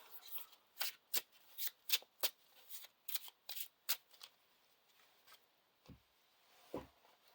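Playing cards for the Lord of the Rings card game are shuffled in a quick run of crisp riffles and snaps, close and clear, then slow to a few isolated taps before trailing off.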